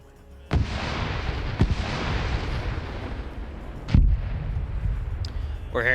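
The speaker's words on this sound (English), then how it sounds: "We're hearing more Op 4 artillery rounds going out on this hilltop here." Artillery rounds fire repeatedly in a large PvP military video game battle on a hilltop, heavy booms with sharp onsets rumbling continuously at mid distance, while a voice talks faintly underneath.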